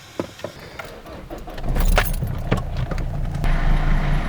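A noisy Renault Clio pulls away and drives, its low engine and road rumble building after a second or so of clicks and rattles, close and fairly loud with no talk.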